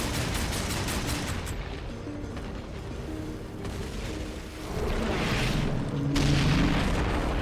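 Bombs exploding in Darksiders II: repeated booming blasts and crackling bursts over a steady dense rumble, with a louder surge of explosions toward the end, no talking.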